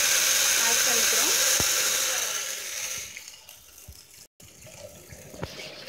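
Tamarind water being poured into a pan of sautéed garlic for poondu milagu kuzhambu, a steady splashing hiss that fades out toward the end, with a few light clinks.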